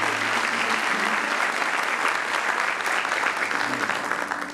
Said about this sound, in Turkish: Ben sevgili solistimiz Derya ve birbirinden değerli sanat arkadaşlarım için bir alkış daha istiyorum